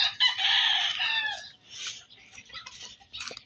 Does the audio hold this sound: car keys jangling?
no